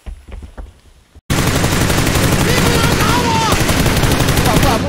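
Heavy automatic gunfire in a shooter game kicks in suddenly after a brief quieter stretch and then roars on in dense rapid bursts, loud and close, while a voice talks beneath the shots.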